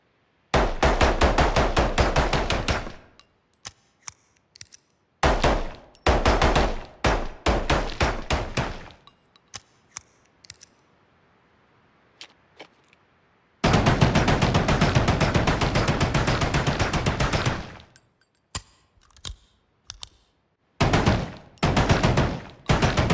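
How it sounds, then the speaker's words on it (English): Lyra game weapon effects: long bursts of rapid automatic gunfire, crisp reload clicks and clanks, and tinkling bullet casings dropping, alternating with short quiet pauses between sequences. "These sounds, including the reload, switching weapons, and bullet casing sounds, are all linked to the animation montages to trigger them."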